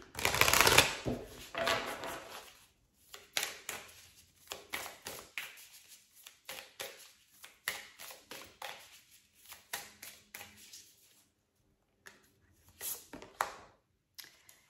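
Tarot cards are shuffled in a quiet room: repeated soft riffling and tapping bursts come in uneven clusters, with brief pauses between them, close and fairly faint.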